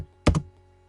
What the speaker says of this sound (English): we're going to type in the words between